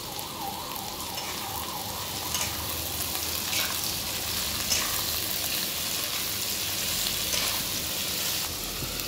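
Onions for mutton curry frying in a pan with a little salt, a continuous close hiss of sizzling oil with faint scattered crackles and a soft utensil tap, no talking.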